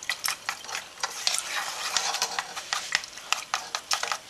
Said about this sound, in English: I'm going to stir